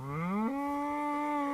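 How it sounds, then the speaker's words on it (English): A cow in the farming game Towncraft gives a single long moo, rising in pitch then holding steady as a loud, close bellow, with no talk over it. "Lots of cows."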